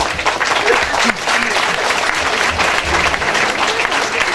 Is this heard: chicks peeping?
no